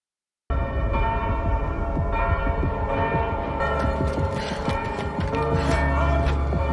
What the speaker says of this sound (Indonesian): Setelah bunyi lonceng barusan